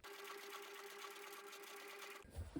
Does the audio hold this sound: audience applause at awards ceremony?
no